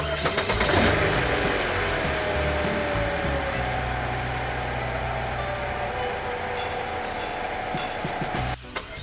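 A car engine starts and the vehicle pulls away as a story sound effect, a loud initial crank and rev settling into a steady engine drone with a rising whine, then cutting off abruptly near the end.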